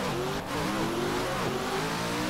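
A race car engine in a Formula Drift video game at Irwindale revs hard in fourth gear, a loud, steady, droning whine that holds and wavers with small pitch dips throughout.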